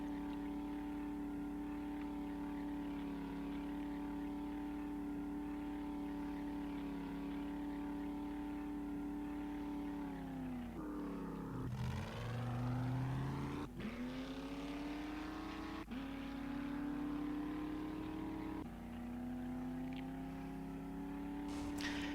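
A vehicle engine in the video game 7 Days To Die drones and strains at a steady low pitch, briefly surging and revving mid-way before settling back into the laboring hum.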